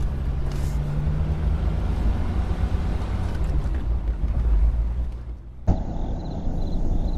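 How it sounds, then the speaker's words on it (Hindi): A car pulls away and drives off, its engine rumble and road noise steady and fairly loud for several seconds before cutting abruptly to a quieter, thinner background. "फिर मैं गाड़ी लेके निकल पड़ा।"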